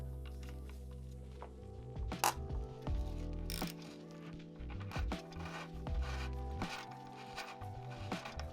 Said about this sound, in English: with my bodge socket, I loosened the lock nuts on the spacers